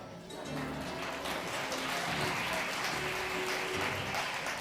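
A live comedy audience applauds at a magic-trick storytelling show, steady dense clapping that holds at an even level throughout, with no talk over it.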